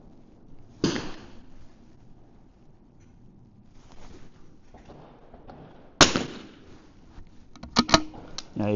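Single sharp cracks from a rimfire rifle at an outdoor shooting match sound at intervals, close and fairly loud. Faint background movement and small handling noises run between the shots.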